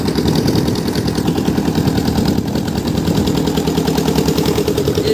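A boat engine ferrying people across a wide, wave-tossed river in the Sundarbans chugs loud and close, a steady rapid throbbing beat that runs without pause.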